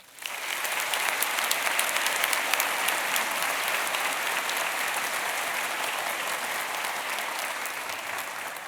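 A commencement audience at Columbus College of Art and Design breaks into loud, sustained applause welcoming honorary degree recipient Daniel Pink, a dense clapping wash that rises quickly and holds steady before slowly easing.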